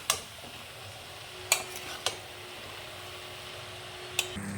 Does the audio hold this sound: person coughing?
no